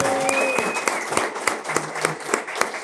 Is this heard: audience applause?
yes